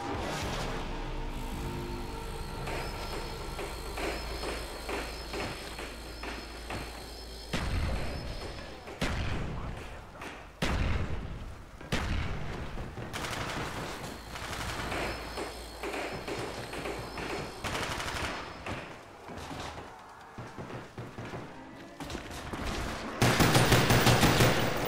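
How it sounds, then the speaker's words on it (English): Rapid bursts of gunfire from a self-defense gun crack out repeatedly over a dense, loud background, with sharp impacts scattered throughout and a heavier flurry near the end. "It's a gun for self-defense."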